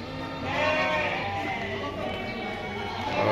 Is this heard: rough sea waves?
no